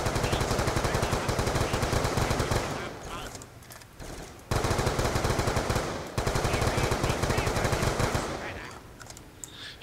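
Rapid automatic gunfire from Black Ops 2 Zombies on the Buried map, loud dense bursts broken by short pauses, with players talking now and then over the shooting.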